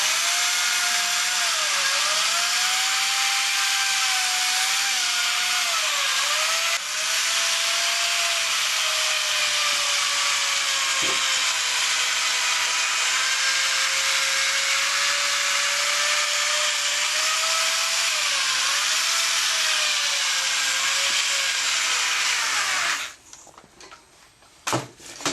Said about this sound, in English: you want to make sure that the rotocork is at a lower RPMs with no downward pressure